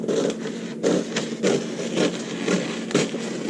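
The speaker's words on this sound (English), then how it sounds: "Let's go ahead and start cutting this out." Scissors cut out a paper halter top pattern close by with a regular series of crisp snipping, crunching strokes, roughly two per second. There are no voices.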